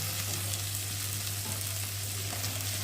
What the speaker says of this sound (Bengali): এখন এই যে আলু আর বেগুনগুলো দিয়ে একটু ভালো করে তেলের মধ্যে কষিয়ে ভেজে নেব